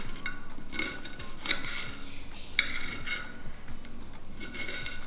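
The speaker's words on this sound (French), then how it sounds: "On va découper l'oignon" A knife chopping an onion on a board, with a steady run of close, soft cutting taps and scraping strokes, punctuated by a few brighter clinks, all fairly quiet with no talking.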